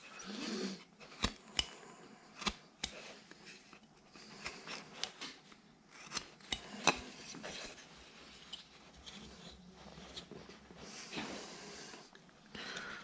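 A freshly sharpened knife slices and carves a wooden figure against the grain, giving a run of close, sharp scraping cuts and short shaving strokes in a quiet room with no talk.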